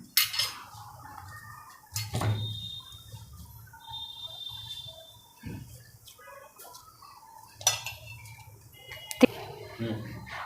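Sesame seeds dry-roasted on low heat without ghee or oil, a spoon scraping and clinking against the pan in scattered strokes, with quiet stretches between the stirs.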